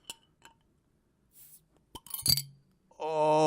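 A bottle is cracked open and poured: faint clinks and taps, a sharp snap, a fizzy rush, then a steady pouring gurgle that grows louder at the end.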